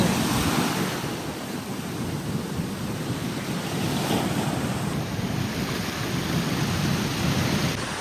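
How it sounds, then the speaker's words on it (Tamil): Sea waves crash and surge in a continuous loud roar, mixed with blustery wind noise against the microphone. "என்ன அலை இப்படி இருக்கு"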